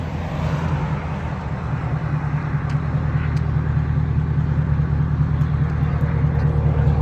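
A 2021 Chevy Camaro SS with a 6.2L V8 and straight-pipe exhaust with the rear muffler deleted idles close by, a loud, steady, deep rumble that holds evenly throughout without voices.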